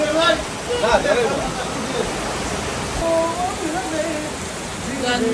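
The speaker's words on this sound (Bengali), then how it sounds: "কি বৃষ্টি আইছে" Steady, hissing rain falls throughout, with people talking faintly over the downpour.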